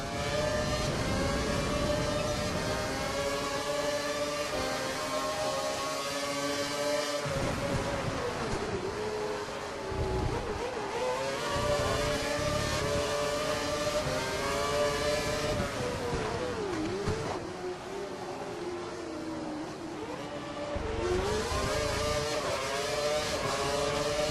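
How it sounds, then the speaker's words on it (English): Formula One race car engines in the F1 2012 video game at the India round, a loud continuous high-pitched whine with rising and falling revs and gear changes. "We think the car behind is running on full revs."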